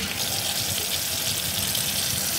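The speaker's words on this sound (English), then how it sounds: "It says to just rinse it with water" Warm water flows steadily from a tap to rinse a rusty barber chair part, a constant bright hissing splash with no breaks and no voices.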